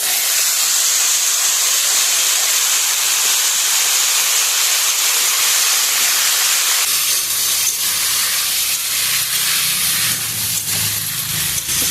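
Potatoes and snake gourd tipped into a hot pan with ginger and radhuni paste, a loud continuous sizzle and hiss that shifts and thickens midway as the vegetables hit the oil.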